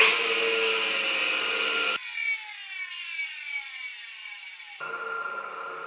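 An air compressor's electric motor runs during a rotation check after a rebuild, a steady whirring hum with tonal whine that shifts partway through and carries on without any talk.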